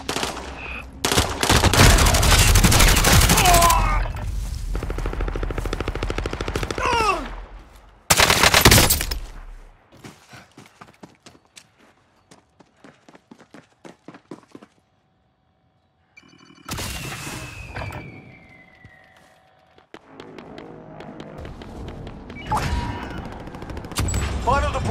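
Heavy automatic gunfire in the battle royale shooter Warzone: loud sustained bursts early on give way to scattered single shots and clicks, then a further loud volley, with quieter stretches in between.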